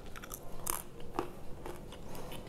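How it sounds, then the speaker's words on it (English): Crisp bites into homemade green banana chips give a few sharp cracks and crunches close to the microphone, followed by quieter chewing, with no talking. "When you get it nice and crunchy, it actually cracks. You can actually get a crunch."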